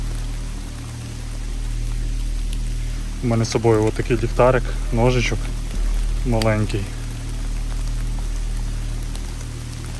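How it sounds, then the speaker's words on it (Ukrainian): Steady heavy rain hisses in a dark forest at night, with someone speaking briefly in the middle over the downpour. "Падає сильний дощ."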